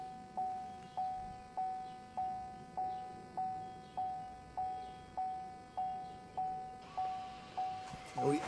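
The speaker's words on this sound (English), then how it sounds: "We just calibrated the parking brake." A 2021 Chevy Silverado during a rear parking brake calibration: a steady chime beeps about a dozen times at an even pace, with a brief mechanical rustle just at the end.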